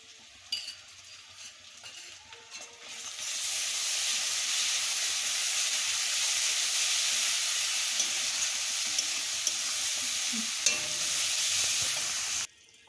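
Ginger, cumin and coriander paste masala for a fish roe curry fries in a pan, a broad steady sizzle that starts abruptly after a few quiet seconds and holds evenly until it cuts off at the end.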